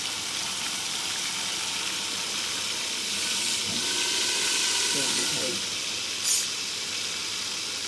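Mango pickle tempering (vaghar) sizzling steadily in hot oil, a continuous broadband hiss with a brief louder burst near the end, no talking.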